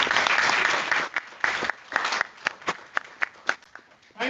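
An audience at a school program claps for a prize-winning student: dense applause at first, thinning into a few separate, spaced claps near the end.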